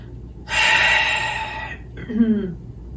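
A deep yoga breath with the throat slightly constricted, a long loud breathy inhale lasting over a second, followed by a shorter rougher exhale, close and alone.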